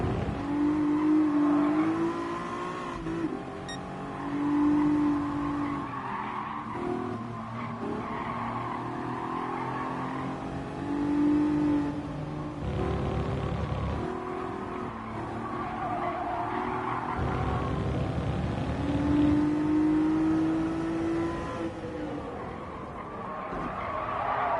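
Race car in GT Sport driven hard, its engine revving up and down continuously with repeated tire squeals and skids through corners, loud and close throughout.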